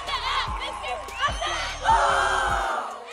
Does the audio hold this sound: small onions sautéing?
no